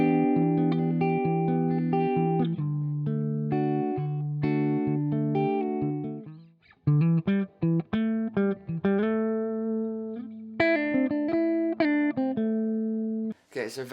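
An electric guitar plays through a clean amp simulator preset, ringing out chords and then picked single-note lines with clear, sustained tones and a touch of reverb. It plays alone and fairly close, with no talking.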